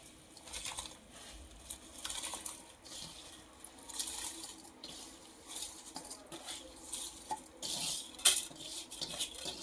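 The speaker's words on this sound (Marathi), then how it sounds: "यामध्ये आता आपण स्वच्छ धुवून घेतलेला" Washed rice stirred into a pot of boiling water for vegetable pulao gives irregular scrapes, clinks and watery sloshes, close but moderately quiet against a faint background hiss.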